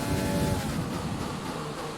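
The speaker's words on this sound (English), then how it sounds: "This car just sounds so good and it feels even better." A Formula 1 race car engine in the F1 2020 video game, a steady loud whining roar at high revs that holds throughout with no voices.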